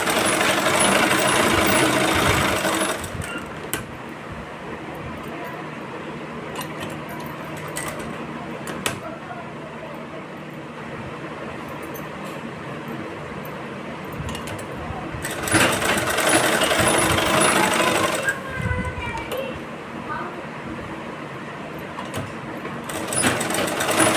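A sewing machine stitches a blouse in loud steady bursts, running for a few seconds, pausing for quieter handling, then running again in several stretches.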